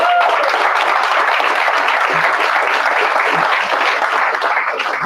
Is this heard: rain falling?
no